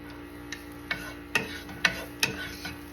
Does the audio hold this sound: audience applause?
no